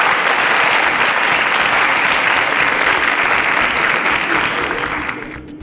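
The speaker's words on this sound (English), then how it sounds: "a round of applause for Okafor" A studio audience on a quiz show bursts into loud, dense applause that holds steady for several seconds and then fades out at the end.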